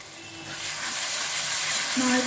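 A spice paste mixed with yogurt goes into a hot pan of melted tomato for a prawn dish, and the sizzling hiss swells and grows louder while a voice speaks briefly over it.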